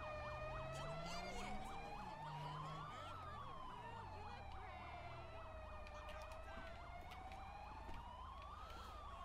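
A police car siren from the game GTA V with the LSPDFR mod, on an Argentine Federal Police Ford Focus ST, wails loudly and continuously, with rising and falling sweeps and a fast yelp, under low engine hum.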